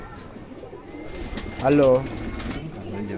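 A pigeon gives a clear, close coo, a short rising-and-falling call in the middle, over a low background hum, with a voice speaking briefly nearby.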